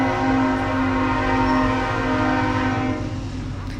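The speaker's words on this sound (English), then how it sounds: "And a train that went by." A train passes close by in a Sims game, its horn holding one long, steady multi-tone blast over the rumble of the rail cars, loud and continuous from start to finish.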